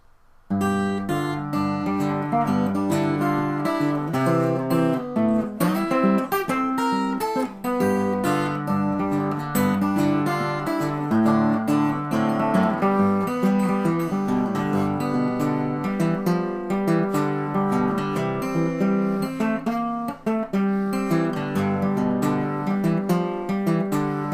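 Steady two-finger acoustic guitar fingerpicking of Hesitation Blues, alternating bass notes under a picked melody, playing continuously and evenly for the whole stretch.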